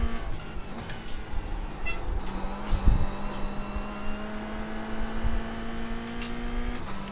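A race car engine in the iRacing sim holds a steady mid-pitched drone with a sustained tone, running continuously at moderate loudness with no talk over it.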